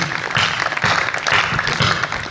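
An audience at a kavi sammelan poetry gathering in Malhargarh applauds, a dense, steady burst of many hands clapping together that fills the room at close range.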